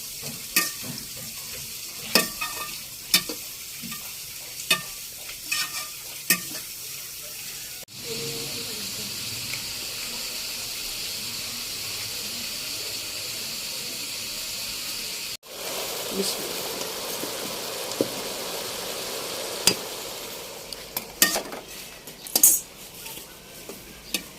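A kadai more than half full of onions from five onions fries in ghee with a steady, hissing sizzle, broken by sharp stirring clacks at the start and end of the clip.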